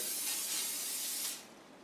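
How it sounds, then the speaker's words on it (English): Butter-flavored cooking spray hisses steadily into a pan on a low-heated stove for over a second, close and fairly loud, then cuts off, leaving a faint background hiss. "I'm gonna use my buttery spray"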